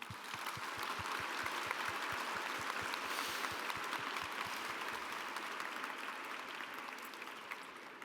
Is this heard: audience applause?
yes